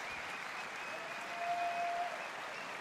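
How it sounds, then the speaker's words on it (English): A crowd applauds and cheers on an adjoining court during a German Open badminton match, a steady wash of clapping that swells slightly midway, heard at a distance with a faint tone running underneath. "Big cheer goes out on the adjoining court."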